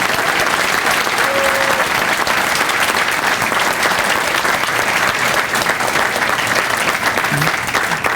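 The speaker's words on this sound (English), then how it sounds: "Ladies and gentlemen, a round of applause." An audience applauds at a sports hall of fame inductee banquet, with a dense, loud wash of clapping that holds steady throughout.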